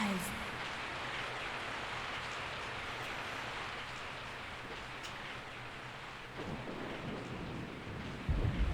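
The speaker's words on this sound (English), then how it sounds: "I woke up to the sound of falling rain." Steady rain falls in a night scene of the video game Resident Evil 3, a dense, constant hiss of rainfall heard alone, with a slight shift in texture near the end.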